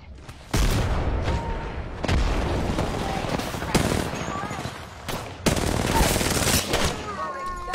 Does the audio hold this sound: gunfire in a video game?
yes